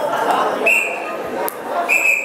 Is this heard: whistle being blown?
yes